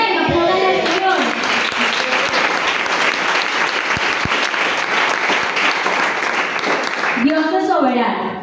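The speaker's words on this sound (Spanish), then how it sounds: "aplaudan al Señor." Sustained applause from a church congregation, dense steady clapping filling several seconds, with a voice speaking over the start and end.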